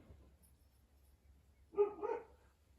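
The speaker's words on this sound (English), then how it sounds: "Sorry if you can hear my dogs." A dog barks twice in quick succession, muffled and somewhat distant, after a quiet stretch with low background rumble.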